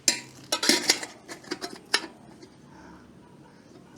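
A metal casserole pot and its lid are handled, giving a cluster of bright clinks and clatters in the first two seconds before the clip fades to quiet room tone.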